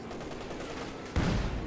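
Artillery barrage in Company of Heroes 2 battle, a continuous rumbling roll of distant explosions and gunfire that swells into a louder, closer burst near the end.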